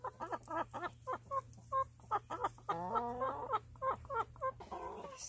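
Backyard chickens cluck in quick repeated bursts close by, with a longer drawn-out squawking call in the middle, over a faint steady hum.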